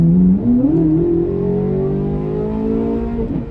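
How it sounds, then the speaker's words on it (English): A Corvette C8 Z06 fitted with Soler 87 mm throttle bodies accelerates hard, its engine note rising quickly and then holding a loud, steady high-revving tone close to the listener, with no talk. "the tip-in when I roll into the throttle is much smoother."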